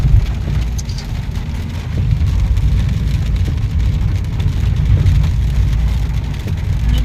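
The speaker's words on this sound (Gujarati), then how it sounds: "વરસાદ ચાલુ છે" Rain and car engine rumble blend into a continuous, fairly loud roar during a drive in the rainy Dang hills near Saputara, steady throughout with no clear voices.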